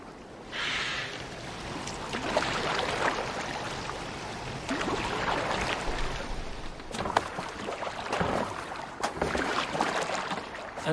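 Oars paddle a longboat through water in Assassin's Creed Valhalla, with steady splashing strokes and a continuous wash of water and wind, close and fairly loud with no talking.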